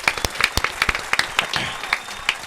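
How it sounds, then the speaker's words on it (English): Scattered applause for a lead singer: a handful of sharp, separate hand claps from a small group, close and loud, with a few brief stray voices between. "Get that man a round of applause."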